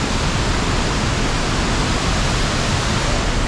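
Rushing water from the Eas Urchaidh waterfall in Glen Orchy, a dense, steady roar of falling water, close and loud, continuous with no voices over it.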